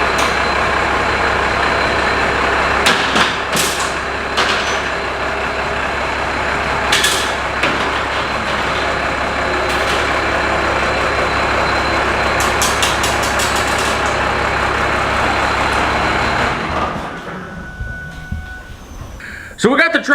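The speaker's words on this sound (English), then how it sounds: "So we got the truck pulled in here." Truck pulled into a home garage shop, its diesel engine idling as a loud, steady low rumble with intermittent clanks and knocks, cutting off near the end, while people talk over it.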